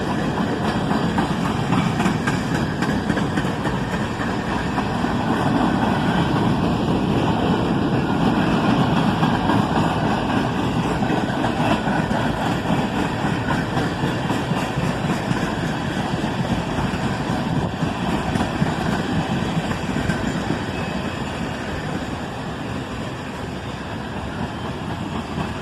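A freight train of empty center beam cars rolls steadily past on the Toledo sub, a continuous loud rumble with a faint rhythmic clatter of wheels throughout.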